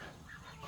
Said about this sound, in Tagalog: Daming pato.